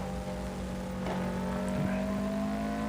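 A stock car engine in a highway racing video game holds a steady, fairly loud drone with a slight rise in pitch partway through, with no voices.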